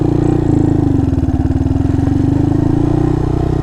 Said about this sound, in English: Pretty good sounding exhaust so far based on idle.